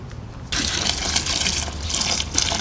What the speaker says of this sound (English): We're going to dilute it with some water.